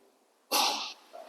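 A single loud, sharp sneeze from one person bursts out close to the microphone during a quiet yoga session, followed by a short breathy exhale.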